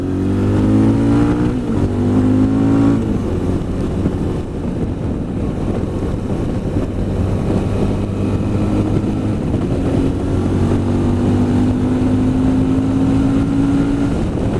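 A Suzuki DL650 V-Strom motorcycle engine with a deep aftermarket exhaust note revs and shifts through gears, steady and loud, with wind rushing over the microphone.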